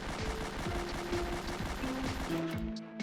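Rapid string of pistol shots from a Beretta M9 in a Roblox game, about sixteen quick sharp reports in steady succession, loud and close, with a low sustained tone underneath.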